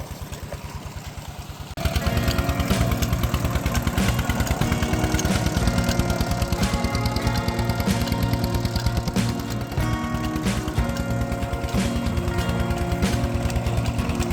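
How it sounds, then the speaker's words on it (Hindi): A Peter diesel engine pumping irrigation water on a farm chugs in a loud, fast, steady rhythm, close up, starting quieter before jumping to full running about two seconds in and continuing with no talk. "पीटर इंजन का पीटर इंजन चल रहा है और पानी आ रहा है"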